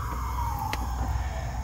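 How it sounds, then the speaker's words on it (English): An emergency vehicle siren passes outside a home garage where a Nissan 300ZX is being worked on. A single sustained wailing tone slowly drops in pitch over a low, constant background rumble. "sorry about the sirens guys"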